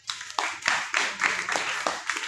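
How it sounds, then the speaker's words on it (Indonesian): Group of children clapping their hands together in a classroom, a quick run of sharp, uneven claps repeating close by, with a voice audible briefly among them. "Siap, tepuk tangan."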